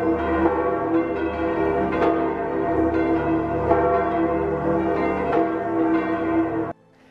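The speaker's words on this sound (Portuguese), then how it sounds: "E os sinos nos convidam à oração." Church bells ring steadily with rich, overlapping tones and repeated strikes, loud and sustained, then cutting off abruptly at the end.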